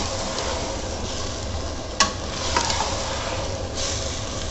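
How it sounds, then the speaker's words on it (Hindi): Sweet zarda rice cooks in a pot while it is stirred gently, giving a soft steady sizzle with a few light utensil clicks against the pot, close and fairly quiet, with no voices. "एक बार चला देंगे, बहुत आराम से चलाइए।"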